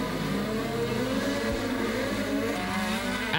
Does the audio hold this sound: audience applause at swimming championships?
no